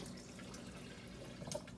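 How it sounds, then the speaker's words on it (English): Filtered water poured into a pot for spicy kale bean soup, heard as a steady close splashing pour from start to finish with no talk. "So now we're going to add our filtered water."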